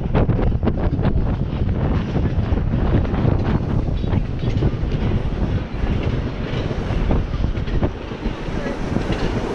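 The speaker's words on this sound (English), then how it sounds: "This is the Davisville subway station. This is where, this is the main subway yard, where they do repairs and host and maintain other trains." Subway trains rumbling loudly at the Davisville station yard, a subway repair and maintenance depot, with heavy continuous rail noise and wind buffeting the microphone throughout.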